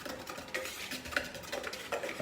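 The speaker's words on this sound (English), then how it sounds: "give that a little whisk so it's all mixed together nicely" Corn flour batter being whisked for fish and chips, with a quiet, steady run of soft scraping and light ticking strokes against a bowl and no voices.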